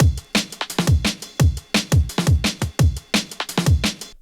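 A drum and bass drum group glued with a compressor and free plugin effects hits a fast, dense breakbeat of heavy kicks and bright snares, louder and fuller, with no other sounds.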